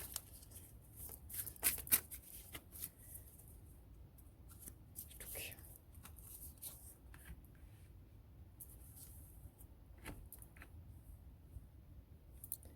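A tarot card being drawn from a deck during a reading, heard as quiet close shuffling and soft card slides with a few crisp flicks, while a person talks softly over it.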